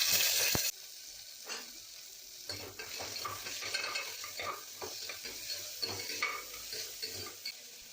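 Chopped onions sizzle gently in a hot pan while a spoon scrapes and stirs them in irregular bursts, after a short louder clatter at the start; close-up, fairly quiet, with no talking.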